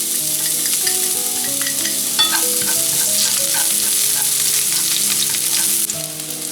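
Onions sizzle and fry in hot oil in a pan for a seafood pasta, a steady crackling hiss with occasional stirring scrapes, close and alone without voices.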